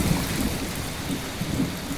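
Steady rain pours down with a low, rolling rumble of thunder underneath, close and fairly loud, no voices.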